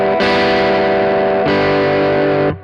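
Electric guitar open strings strummed through an Origin Effects RevivalDRIVE overdrive pedal with the control turned fully up: two loud, heavily distorted sustained chords ringing thick and saturated, alone with no talking.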